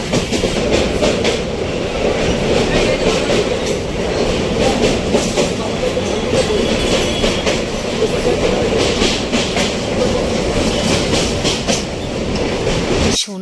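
Local passenger train in India heading toward a station, heard from inside the carriage: a steady loud rumble with rhythmic clickety-clack of wheels on rail joints throughout, with faint talk in the car.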